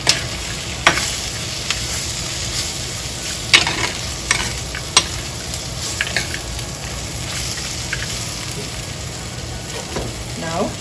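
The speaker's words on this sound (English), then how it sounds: "Keep stirring." Eggplant and salted anchovies frying together in a pan for a Sri Lankan-style moju, stirred constantly; a continuous loud sizzle broken by repeated sharp clacks and scrapes of the spoon against the pan.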